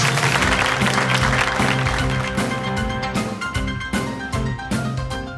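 A studio audience claps loudly on a Turkish comedy talk show. The dense applause holds through most of the clip and tapers slightly near the end, with a tonal music bed running underneath.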